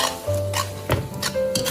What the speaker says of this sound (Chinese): 再快速的翻炒，大概翻炒10几秒左右就可以了